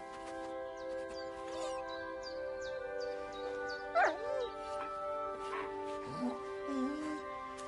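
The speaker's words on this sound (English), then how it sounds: "Mutt, come here. Good boy, good boy." In the medieval video game Kingdom Come 2, a dog whimpers and gives short yips and a couple of barks against a sustained musical drone, the cries rising near the middle and again toward the end.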